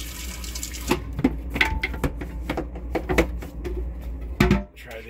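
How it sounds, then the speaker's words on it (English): Water sprays from an RV sink sprayer in a diesel pusher motorhome, a close rushing hiss broken by clicks and knocks of handling. "Try the sprayer without the pedal."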